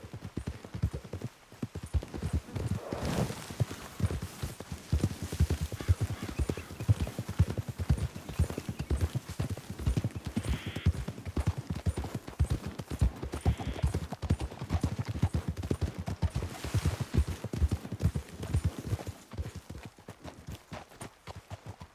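Horses galloping in the video game Red Dead Redemption 2, a dense, continuous drumming of hoofbeats on dirt, loud and close, with rhythmic clip-clop pulses steady throughout and no talk.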